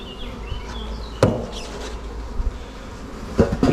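Honeybees buzz around an opened production beehive as a super is added, a continuous nearby hum broken by a few sharp knocks and scrapes of hive parts.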